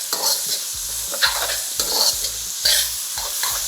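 Egg fried rice with five-spice powder and MSG sizzles steadily in a pan while being tossed and stirred, giving repeated scraping strokes over a continuous loud frying hiss.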